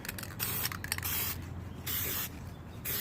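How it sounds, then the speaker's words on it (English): A spray paint can hisses onto a pumpkin being given a faux mercury glass finish, in several short close-up bursts followed by longer steady sprays with brief pauses between. "I'm just going to spray this area, work on this area"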